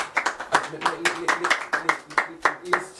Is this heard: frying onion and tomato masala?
no